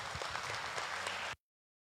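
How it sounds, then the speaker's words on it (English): A crowd at a cattle livestock show claps for the exhibitors, giving dense, even applause that runs for just over a second and then cuts off abruptly. "let's give all the exhibitors a nice round of applause"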